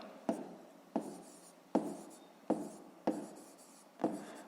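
A pen writes a fifth-grade math exercise by hand: six short, evenly spaced scratching strokes, close and quiet, with no voices.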